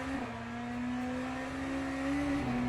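Race car engine in the Le Mans Ultimate sim, a Hypercar on new tyres, holds a steady loud drone that climbs gradually under hard throttle, close and continuous with no talk, a sharp jump in pitch at the very end.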